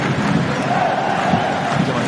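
Spanish football fans filling a stadium during a match against Morocco, a dense, steady roar of crowd chanting and shouting that swells slightly at times, with a commentator talking over it.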